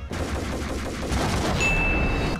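Rapid gunfire from the video game Max Payne, a dense volley of shots filling the clip at steady loudness, with a thin high electronic tone entering near the end; no talking.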